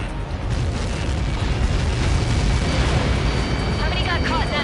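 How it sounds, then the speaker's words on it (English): A huge explosion impact in the video game Ace Combat 7, a dense, loud, sustained roar of blast noise filling the whole stretch with a steady rumbling wash and no clear individual bursts. "How many got caught in that explosion?"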